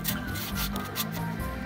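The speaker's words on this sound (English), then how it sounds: "I'm gonna sand the edges" Fine sandpaper rubs by hand across a car hood, a close, steady scratchy rasp in repeated strokes with no pauses.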